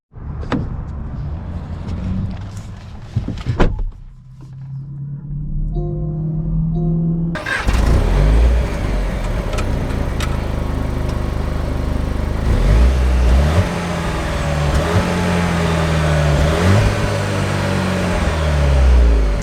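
A 2021 Jaguar E-Pace 300 Sport is heard with a few clunks and a whirring hum, then the engine starts and settles into a steady, close running drone as the car pulls away and drives on.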